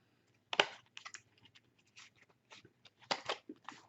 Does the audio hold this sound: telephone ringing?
no